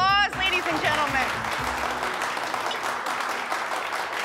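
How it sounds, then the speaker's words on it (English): Audience applause at a show, a dense continuous wash of clapping that starts right after a brief voice at the opening and carries on steadily to the end. "Let's give him a round of applause, ladies and gentlemen."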